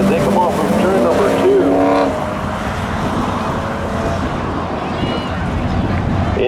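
A Pontiac and other race cars come off a turn on a track, their engines roaring loudly and steadily and easing slightly after two seconds, with a voice faintly present under the noise.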